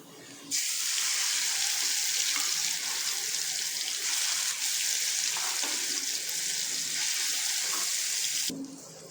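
Loud sizzling erupts suddenly as wet ground tomato chutney hits hot oil, crackling steadily for several seconds before cutting off abruptly.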